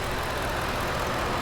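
A 2012 Lincoln Navigator engine idles steadily and evenly at close range, a continuous low rumble with no revving or other sounds over it.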